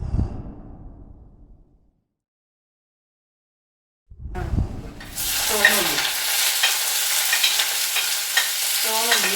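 Shallots hit hot coconut oil with popped mustard seeds: after a low opening thump and a silent pause, a loud, sustained close sizzle starts up, with stirring and scraping through it.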